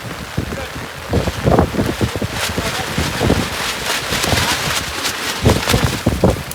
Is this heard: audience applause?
no